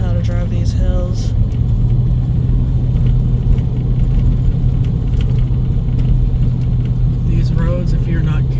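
Car driving on a hilly rural road toward Susquehanna Riverlands Park, a loud steady engine and road rumble inside the cabin with brief higher tones, with people talking over it.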